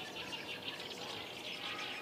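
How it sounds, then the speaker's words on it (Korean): Small birds chirping and twittering at Hwapocheon wetland, a soft continuous chorus of high calls over a faint airy background, distant and gentle. "고요한 풍경 속에 새소리와 바람소리만이 잔잔하게 울려 퍼지는 화포천 습지"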